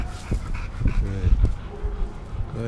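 A shelter dog pants and gives soft whimpers close by, with a person talking gently over it.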